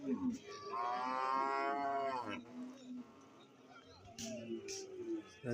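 A buffalo at a cattle market lets out a long, loud bellowing moo close by, followed by quieter grunts and shorter calls, with people talking faintly in the background.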